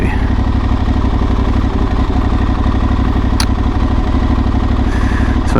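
An Aprilia Tuareg 660 motorcycle engine drones steadily and loudly while riding a dirt backroad, close up, with constant rumble and rattly clatter and a couple of sharp ticks.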